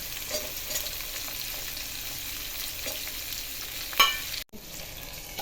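Garlic, chillies and tomatoes fry and sizzle in a pan for tomato chutney, a continuous close crackling hiss with light stirring scrapes, one sharper clatter and a brief break before the sizzle resumes.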